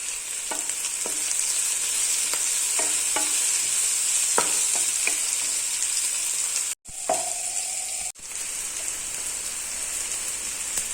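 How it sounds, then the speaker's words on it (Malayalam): Onions fry in oil until brown, making a loud, continuous sizzle with scattered pops and spatters; it cuts out briefly twice. "ഉള്ളിയൊക്കെ നന്നായിട്ട് ബ്രൗൺ നിറമാകുന്ന വരെ വഴന്നിട്ടുണ്ട്"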